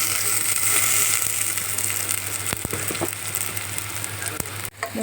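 Jeerakasala rice frying in ghee with whole spices for Thalassery chicken dum biryani, a continuous close sizzle with a few sharp stirring clicks of a spoon against the pan, no voices.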